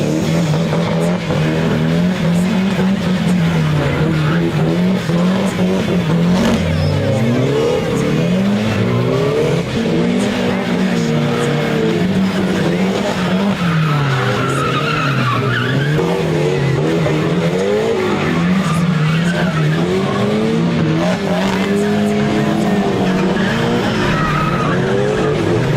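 A car drifting, loose and hard to control, with long wavering tire squeals rising and falling over a revving engine, loud and close throughout.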